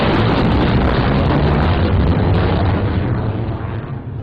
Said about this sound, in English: The loudest sound that can be produced is something we call a sonic boom or shock wave.